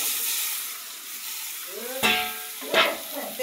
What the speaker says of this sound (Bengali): এখন আমি এই যে সবজিগুলো দিয়ে দেব।